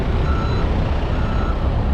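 A dump truck at a warehouse construction site beeps steadily as it reverses, close and loud over a low idling engine rumble.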